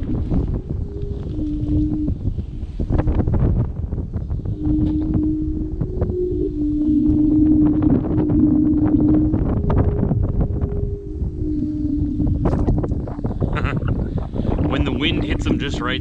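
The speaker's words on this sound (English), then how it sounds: "When the wind hits them just right, they sing." Wind whistling across parked truck trailers, a steady tonal singing that wavers in pitch over heavy low wind rumble and buffeting, loud and continuous near the microphone.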